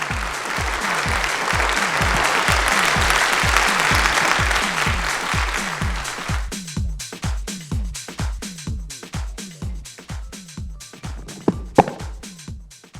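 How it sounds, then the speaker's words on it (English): An audience at a TV industry summit panel gives steady, sustained applause, loud at first and then thinning into scattered claps before fading. "clap for Pankaj"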